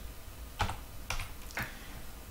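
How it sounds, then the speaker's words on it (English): Three quick keystrokes tapped on a computer keyboard, soft and close, spaced about half a second apart in a quiet room. "So I type in WJS"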